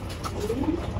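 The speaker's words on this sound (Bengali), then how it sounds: "এই হলো আমার নর কবুতরটা" A male pigeon from a paired tournament-racing stock coos close by, a soft low throaty rolling call that runs through the whole second over faint background noise.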